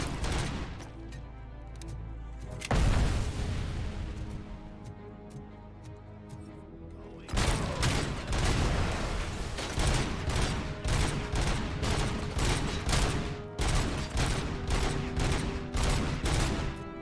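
Gunfire and grenade explosions in RoboCop: Rogue City, a big blast partway through, then dense rapid bursts of automatic fire rattling steadily, loud and close.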